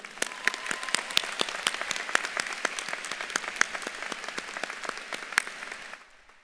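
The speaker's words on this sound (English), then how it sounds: "Let's give Amina a round of applause." Audience at a 2023 college graduation ceremony breaks into sustained applause, dense overlapping claps at steady volume for about six seconds before cutting off abruptly.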